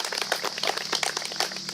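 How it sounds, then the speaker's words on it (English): A news conference audience applauds a sponsor with dense, steady clapping that stays moderately loud and close for a brief stretch, with no voices over it. "Can clap for that."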